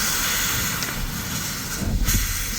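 A steam locomotive works uphill at night, letting out a broad, steady hiss of steam with low rumbling chuffs beneath, loud and continuous throughout.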